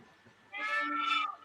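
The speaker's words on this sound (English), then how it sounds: "I hear cats." Cats meow through a phone speaker, a thin, tinny pair of drawn-out cries, one after another, following a short quiet stretch.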